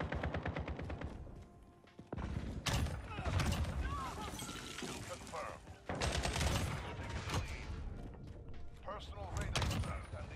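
An M4 rifle fires repeated sharp shots in the video game Modern Warfare, with clustered bursts and mechanical clatter layered under a speaking voice and dense game noise.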